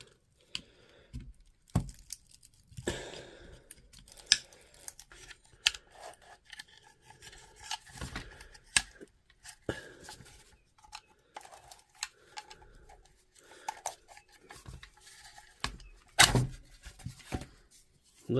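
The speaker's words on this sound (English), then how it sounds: "So the next step is to just get it out of the casing." Internals of a DeWalt power tool being worked out of its plastic casing, heard as close, irregular scraping, rubbing and clicking with sharp plastic knocks scattered throughout, no voices.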